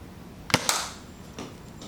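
A Nerf Modulus grip blaster fires two foam darts, two sharp close pops in quick succession followed by a fainter mechanical click as the blaster is primed again.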